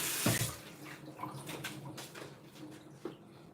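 Water is poured onto a garden plant, making a brief splash followed by a soft, uneven trickling that tapers off. It is fairly faint and close, with no talking.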